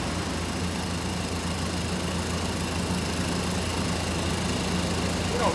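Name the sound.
1987 Chevrolet Suburban truck engine running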